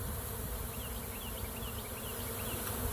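A honey bee swarm returns to its hive: dense, continuous buzzing from many bees, close and steady, with no voices.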